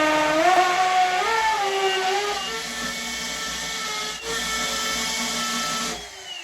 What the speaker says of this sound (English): This is just a normal masonry drill bit.